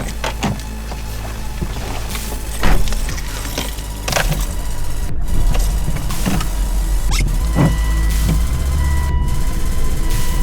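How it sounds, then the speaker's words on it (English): Someone climbs into a lifted Volvo XC70 on a snowy camping trip, with door and seat clunks, then the engine runs and the car pulls away, steady road rumble building underneath. "Let's hop back in the car here and get on the road."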